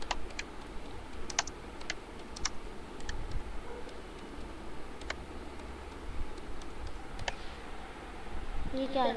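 Scattered clicks of keys on a computer keyboard tap out in short irregular bursts over a low background hum, with a person talking faintly at times.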